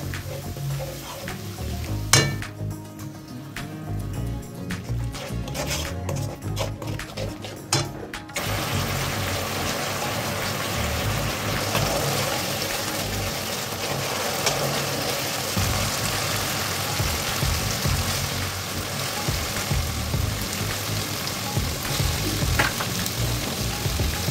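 Pointed gourd sizzles and fries in mustard oil in a pan, a steady crackling hiss that runs continuously, with a few clanks of the pan and utensils early on and no talking.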